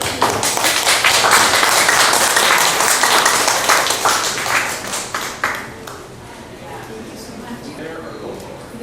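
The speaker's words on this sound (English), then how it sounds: "Big round of applause here." An audience at a poetry night claps, a dense burst of applause that fades into scattered claps, with voices speaking under and after it.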